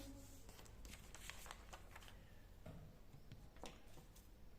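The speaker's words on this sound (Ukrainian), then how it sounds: "Я складаю папір навпіл." Sheets of coloured paper for a beach-themed craft appliqué are folded in half, giving soft rustles and crinkles close to the microphone over a faint background hiss.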